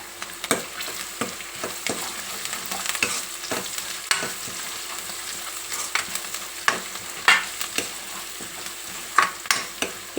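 Curry leaves and turmeric frying in oil, a close, constant sizzle punctuated by frequent irregular spatula scrapes and taps against the pan.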